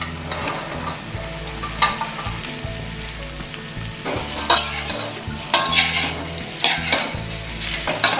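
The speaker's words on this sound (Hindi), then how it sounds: "अब मैं इसमें जो भिंडी मैंने काटी है वो डालूंगी" Chopped okra tipped into onions frying in a pan, with a busy sizzle, scraping stirs and clinks of a utensil against the pan throughout, close and fairly loud.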